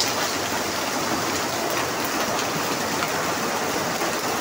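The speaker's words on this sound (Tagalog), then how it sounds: "Oh, ang lakas ng ulan, grabe." Heavy rain pours down in a dense, unbroken roar of hissing downpour, loud and even throughout with no voices over it.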